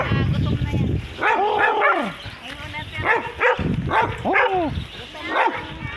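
Dog barking in a farm area, several sharp barks and yips in quick bursts, close and loud, with people talking and exclaiming over it.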